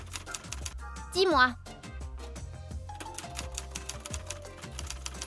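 Rapid mechanical clacks of typewriter keys from a horror video game about a cursed typewriter, a steady clatter with a brief rising tonal sweep, heard close under a woman's short spoken line.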